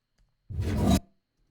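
A single short, wide growl, about half a second long, deep and gritty, loud and alone against silence.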